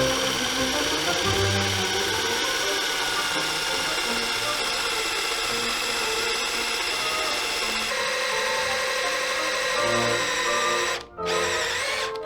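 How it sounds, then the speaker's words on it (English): A brad point drill bit bores into a wooden slab for coffee table legs with a loud, steady, close-up mechanical whine that runs almost nonstop and briefly cuts out near the end. "this is a brad point drill with that spike in the middle"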